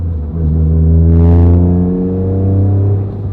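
A Toyota GR Corolla's quiet aftermarket exhaust hums in a smooth, low drone nearby, swelling slightly in the first seconds and then holding steady and fairly subdued.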